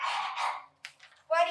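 Young voices imitate a sheep, making drawn-out bleating "baa" sounds in a few short bursts, the last one wavering.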